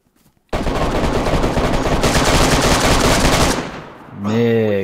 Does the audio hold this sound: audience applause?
no